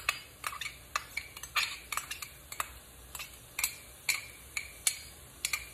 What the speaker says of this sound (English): Let that saute a little bit with the ground beef.